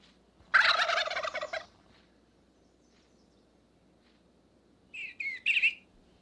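A loud wild turkey gobble rings out in the Shenandoah hollows in spring, followed after a pause by a second, shorter burst of gobbling calls.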